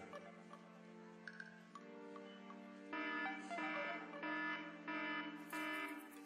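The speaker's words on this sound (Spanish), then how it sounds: "Si escucha la señal de alarma" An electronic alarm signal sounds in a theater, a steady tonal beeping that gets louder and more pulsing partway through, with repeated bursts near the end and no talk.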